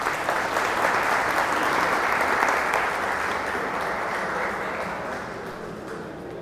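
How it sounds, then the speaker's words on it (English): An indoor audience applauds a guest at a Raspberry Pi and Java tech show, a dense, steady burst of clapping that slowly fades toward the end. "give him a big round of applause for being a good guest"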